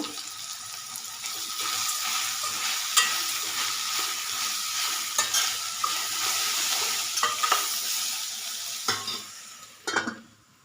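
Sliced ridge gourd frying with turmeric in a pan, a continuous moderate sizzle with intermittent clinks and stirring scrapes, heard alone without speech.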